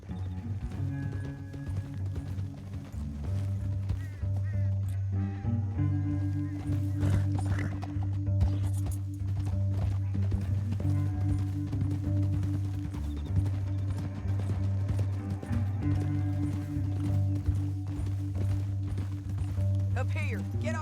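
Steady hoofbeats of horses galloping in a continuous driving rhythm in Red Dead Redemption 2, set against a low musical drone with occasional voices.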